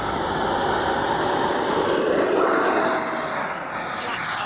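An FMS F-86 Sabre 80mm electric ducted-fan RC jet spooling up for takeoff, a steady loud high-pitched whine and rushing roar held nearby throughout, no talking.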